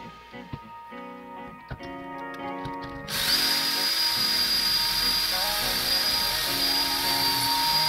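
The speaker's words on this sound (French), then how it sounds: "il aurait fallu y aller progressivement en relevant à chaque fois un petit peu le foret pour évacuer les copeaux au fur et à mesure du perçage" A power drill bores pocket holes through a Kreg-style drilling jig: after several seconds of faint clicks and handling, the motor starts and runs loud and steady at constant speed until the end.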